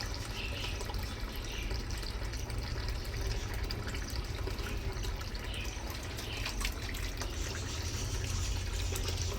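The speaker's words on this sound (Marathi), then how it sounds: "आता हात कसा धुवायचा तुम्हाला दाखवते." Water poured from a metal water pot (handa) over hands being washed, a steady, close splashing stream that runs continuously without pause.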